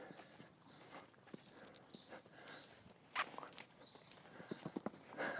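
A horse moves about on the ground during intermediate liberty groundwork, its hooves giving scattered, irregular soft thuds and shuffles at close range over a quiet background, with no speech.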